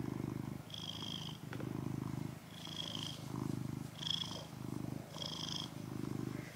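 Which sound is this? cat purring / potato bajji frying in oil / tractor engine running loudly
cat purring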